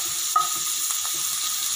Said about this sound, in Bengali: পেঁয়াজটা দেখুন ভাজা ভাজা হয়ে এসছে, ক্যাপসিকামটা ভাজা ভাজা হয়ে এসছে